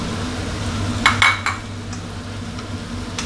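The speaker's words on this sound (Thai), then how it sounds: "ผัดคลุกเคล้าให้เข้ากันดีเลยครับ" Shrimp and holy basil are stir-fried in a pan, a steady low sizzle running throughout with a few bright clinks and scrapes of a utensil against the pan near the middle.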